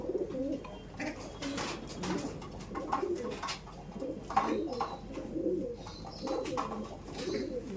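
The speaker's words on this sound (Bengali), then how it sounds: "আর এটা হচ্ছে ফিমেল পায়রা" Kaldom pigeons coo steadily in a loft, several birds overlapping in low, rolling calls that rise and fall throughout at moderate, close range, with no talk.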